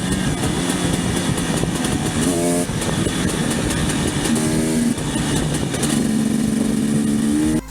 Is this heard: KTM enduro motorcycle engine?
yes